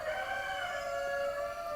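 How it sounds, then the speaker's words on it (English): A rooster crows in a long, loud, sustained call, nearby and alone with no talking. "those are my roosters going crazy in there because they hear me"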